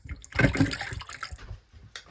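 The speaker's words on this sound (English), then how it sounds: "I'm gonna put a little bit of water in it." Water poured into a pot of noodle soup with boiled pumpkin, a short close splashing gush that swells quickly and then trails off into faint trickling.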